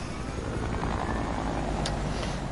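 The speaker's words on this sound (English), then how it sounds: "Oh, that's a helicopter" Helicopter in a video game, a dense steady rotor and engine roar filling the whole clip, loud and continuous with no talk over it.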